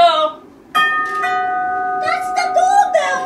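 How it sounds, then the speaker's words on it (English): A doorbell in an old house rings with a bright two-tone chime, steady, clear harmonic tones repeated across the clip, loud and close with no talk over it. "That's the doorbell"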